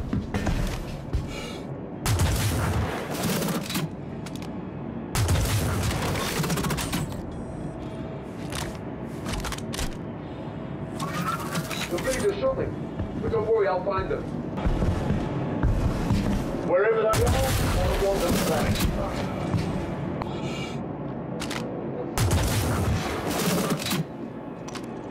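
Electron Bolt sniper rifle firing in the video game Star Citizen, with repeated loud energy bursts at irregular intervals over a constant background of game ambience and a voice talking throughout.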